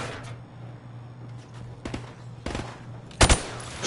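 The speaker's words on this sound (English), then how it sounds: "I want to see you fire from the hip." Rifle fire from the hip in Call of Duty: Modern Warfare Remastered on a firing range, heard as scattered single shots and a loud close burst near the end over a steady low hum.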